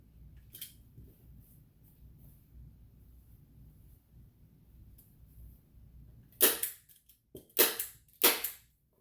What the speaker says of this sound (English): I'm going to pull this all this up and staple it before I even cut it.